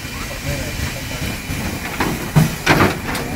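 Hissing from the Albatros 498.104 steam express locomotive, built in 1954, heard at the engine with a steady broadband hiss and a few louder bursts toward the end, with faint voices in the background.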